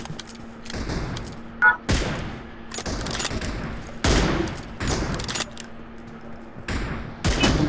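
Gunfire in the mobile battle-royale game PUBG Mobile comes as repeated bursts of rapid shots and sharp cracks, spread unevenly across the stretch over a low steady hum, moderately loud with no talk.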